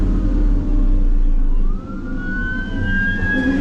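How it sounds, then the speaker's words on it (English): A siren wails with a rising, sweeping tone as an emergency vehicle closes in from behind, heard from inside a Cat 930 wheel loader on a town street at night, over a steady low engine rumble. "Got an emergency vehicle coming up behind me."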